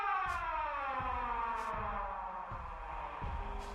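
Sirenhead, a tall slender video-game creature, blares an eerie, warbling siren wail that holds steady and loud throughout, with faint repeated thuds underneath and no talking.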